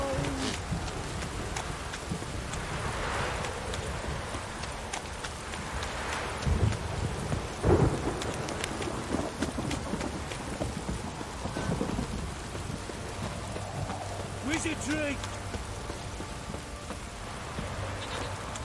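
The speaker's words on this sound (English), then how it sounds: "This downpour's a bastard, it is." Heavy rain pours steadily during a thunderstorm in The Witcher 3 video game, with rolling thunder rumbling through it and brief in-game voices heard over the downpour.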